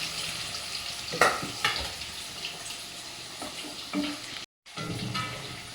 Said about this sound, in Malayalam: ചിക്കൻ പാകമായിക്കൊണ്ടിരിക്കുന്നു അത് ഇട ഇളക്കി ഇളക്കി കൊടുക്കണം ചിക്കൻ നല്ല ക്രിസ്പായിട്ട് കിട്ടും